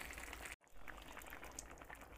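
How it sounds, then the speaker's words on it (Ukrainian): Cauliflower in tomato sauce boiling in a covered pot, a quiet steady bubbling and simmer, briefly cut off by a short gap before the soft bubbling resumes. "Зараз накриваю просто кришкою, нехай воно покипить."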